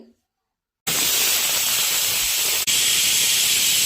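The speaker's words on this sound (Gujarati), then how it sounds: "આપણે અહીંયા 2 વિસલ વગાડી અને સરસ મજાનો સરગવો બાફી લીધો છે" A pressure cooker steaming drumsticks on a gas stove lets out a loud, steady hiss of escaping steam after a brief silence, with a short break before the hiss resumes.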